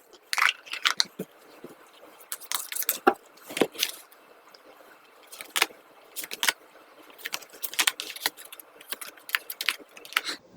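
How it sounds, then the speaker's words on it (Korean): Tarot cards being shuffled and a single advice card drawn from a unicorn message deck, heard as a close series of crisp papery flicks, slaps and riffles in irregular bursts, with no talking. "조언 카드 한 장 뽑아볼게요."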